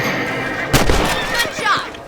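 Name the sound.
gunshot in Red Dead Redemption video game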